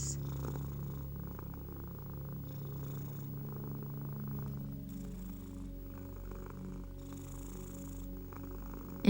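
A cat purrs steadily up close in a quiet room, a low, rhythmic rumble that carries on continuously, with faint soft background sounds and no voices.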